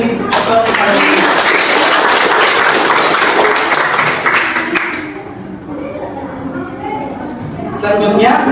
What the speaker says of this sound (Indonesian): Mari kita beri aplaus kepada Lydia.